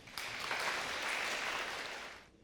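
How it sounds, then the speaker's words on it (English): Audience at a fraud-awareness talk applauds local bank representatives, a dense, faint, steady wash of clapping that tapers off at the end. "Round of applause for them."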